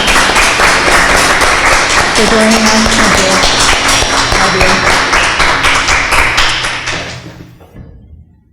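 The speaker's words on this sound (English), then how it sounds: "Can you join me in giving Luann and Cooper a big round of applause" Dense, loud applause from a live audience at a grief-themed reading event, continuous rapid clapping with a brief spoken thanks over it, tapering off near the end.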